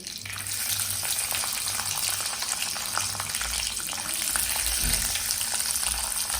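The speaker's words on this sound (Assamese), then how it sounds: "মই এতিয়া দিছোঁ বাদামকেইটা চব মানে হাই ফ্লেমতে ভাজি থাকিম" Peanuts fry in a pan over a high flame for sabudana khichri, giving a steady, close hissing sizzle with scattered crackles and occasional stirring scrapes, with no voice over it.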